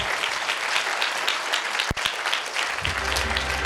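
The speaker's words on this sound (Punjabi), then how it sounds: "ਤਾੜੀ ਮਾਰ ਲਓ ਇਸ ਕੰਮ ਵਾਸਤੇ।" A church congregation claps together in steady applause, a dense and fairly loud patter that holds throughout, with a brief dip near the middle and a low rumble coming in toward the end.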